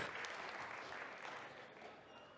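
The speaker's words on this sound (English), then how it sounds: "Please, a round of applause." A conference audience at a tech event claps for the next venture capital firm called to the stage, a dense, steady, fairly distant round of applause that fades slightly toward the end.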